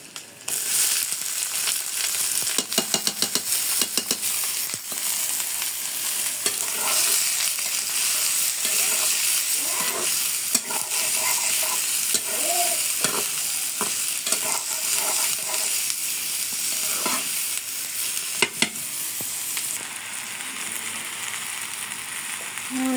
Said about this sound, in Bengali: সিদ্ধ ডিম ভাজা হয়ে গেছে এখন আমি পেঁয়াজ কাঁচামরিচ দিয়ে দিই